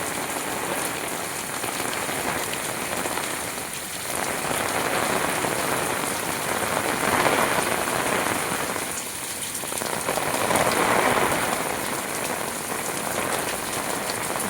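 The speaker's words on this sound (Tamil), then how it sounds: "பார்த்தீங்களா எவ்வளோ மழை பெய்யுது பார்த்தீங்களா?" Heavy rain pours steadily onto tomato plants and buckets, a dense, loud, unbroken hiss of drops that swells and eases slightly over time, with no voices.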